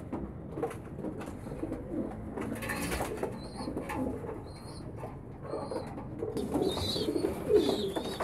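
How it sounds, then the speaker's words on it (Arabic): Thirsty pigeons come down to water, cooing softly nearby in repeated low murmurs, with a few higher calls and light rustling in the background and no speech. "هو الحمام عطشان بينزل اهو عشان المية"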